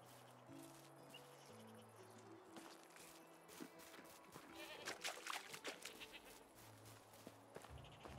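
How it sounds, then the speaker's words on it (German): Goats bleat here and there in the medieval farming game Medieval Dynasty, with soft footsteps and game music underneath, fairly quiet overall. "hier sind nur Ziegen."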